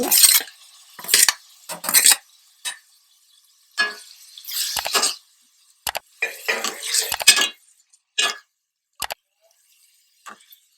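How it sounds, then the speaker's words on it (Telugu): Finely chopped tomatoes are added to mutton curry in a pan, heard as a series of short, close stirring and scraping bursts with wet clatters and quiet gaps between them. "ఇప్పుడు మనం టమాటాలు యాడ్ చేద్దాం. సన్నగా తరిగిన టమాటాలు"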